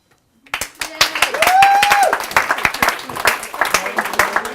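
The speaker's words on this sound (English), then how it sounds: "Massive round of applause for Charlene" Audience applause breaks out after a short silence following a talk, with sharp individual claps quickly building into a lively round; a voice cheers or whoops briefly as clapping continues strongly.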